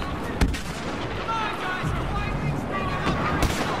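A grenade explodes amid gunfire in the Star Wars Battlefront beta, with sharp booms and steady shooting layered over a constant battle rumble as a voice talks throughout.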